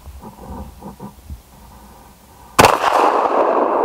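A Mosin Nagant 7.62x54R rifle fires a single loud shot at steel targets, a sharp broadband crack followed by sustained ringing and reverberation, preceded by low murmuring background noise.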